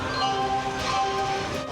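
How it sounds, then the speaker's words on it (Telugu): A passenger train starts to move on a journey through Kerala, giving a steady, fairly loud rumble with a sustained mechanical hum and no voices. "ట్రైన్ స్టార్ట్ అయిపోయింది మాది."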